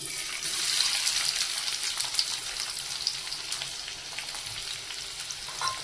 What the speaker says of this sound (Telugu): ఆయిల్ వేడైంది, ఆనియన్స్ వేద్దాం